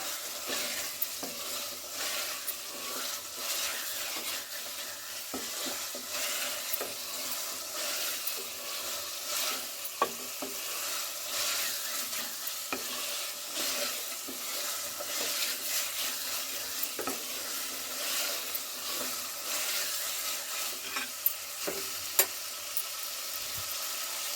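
Chicken pieces coated in spice masala fry and get stirred in a pan for chicken korma, with a steady broadband sizzle and frequent spoon scrapes and clicks running throughout, close and continuous with no talking.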